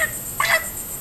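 A brief chicken clucking sound effect, a single short squawk that sounds close and fairly loud, with nothing else heard around it.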